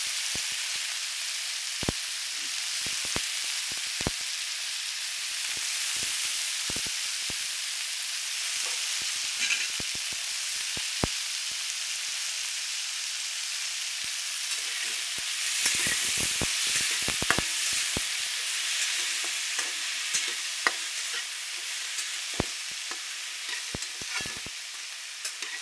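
Onion frying in oil over a low flame makes a steady, bright sizzling hiss scattered with sharp crackles and pops throughout.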